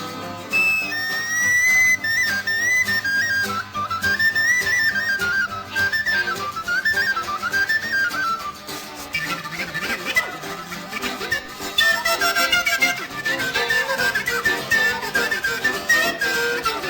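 A whistle played live on stage at the Bottom Line in New York, bright trilling melodic lines that rise and fall continuously over a loud full band.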